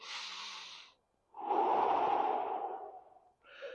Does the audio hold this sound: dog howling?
no